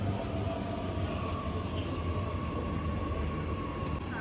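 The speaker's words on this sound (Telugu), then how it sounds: "ఈ ట్రైన్ స్టేషన్ వచ్చేసి కూపర్స్ ప్లేన్ స్టేషన్." A train at Coopers Plains railway station in Brisbane rumbles steadily with a low mechanical drone and faint tonal hum, moderately distant and continuous, no talking.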